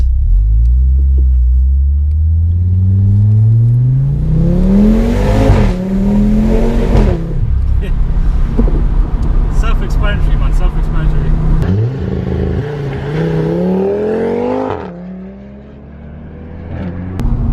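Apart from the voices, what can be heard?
Audi RS3 engine and Milltek exhaust while driving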